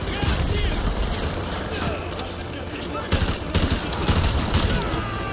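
Heavy gunfire in the Call of Duty: Modern Warfare 2 Remastered video game, several guns firing at once with crackling bursts and louder hits near the end, while players talk over the shooting.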